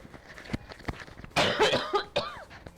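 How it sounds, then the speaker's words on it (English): A close, sharp cough bursts out after a few quiet taps and shuffles, followed by a second smaller cough. "Excuse me, I'm going to cough again."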